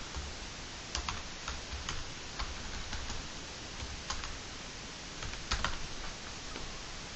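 Keys tapped on a computer keyboard while entering search terms for local law ordinances, a steady patter of close, light clicks with small bursts and pauses, with no voices over it.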